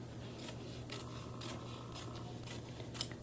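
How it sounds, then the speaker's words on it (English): Scissors snip through fabric seams while trimming them to a scant quarter inch, about six quiet, evenly spaced cuts roughly half a second apart against a faint background hum. "now we're going to trim to scant 1/4 inch seams"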